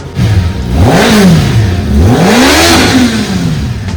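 A Suzuki Hayabusa motorcycle with a double exhaust is revved close by, the engine pitch sweeping up and down in two big throttle blips over a steady idle rumble.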